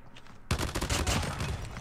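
Annihilator fire in Call of Duty Mobile, a sudden onset of rapid heavy gunfire that rattles on densely for over a second after a quiet lead-in, with a voice faintly underneath.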